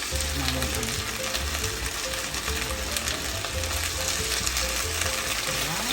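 Shrimp fry in oil in a pan while being stirred, a loud, close, continuous sizzle with scraping and clinking of the utensil throughout, and a brief spoken word over it.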